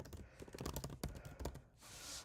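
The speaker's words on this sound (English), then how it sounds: "If you start typing it in" Quick, close keystrokes on a computer keyboard, an irregular burst of clicky taps with brief pauses, ending in a soft rustle.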